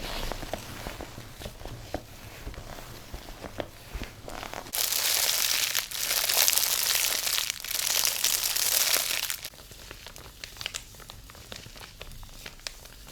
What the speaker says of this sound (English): transport backpack crinkles.